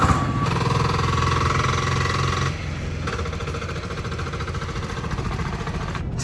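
A homemade inline three-cylinder diesel in a Baja Beetle drives on the street, a loud, steady, rough chugging drone with a knocking pulse that eases slightly partway through.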